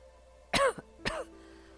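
An elderly man coughs twice, a harsh rasping cough and then a shorter second one, close up in a quiet room.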